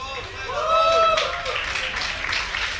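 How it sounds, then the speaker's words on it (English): Crowd noise at a Homestory Cup StarCraft esports event: a loud, sustained roar of cheering builds and carries on, with a voice or tone sweeping briefly through it near the start. "The crowd is just loud today, man."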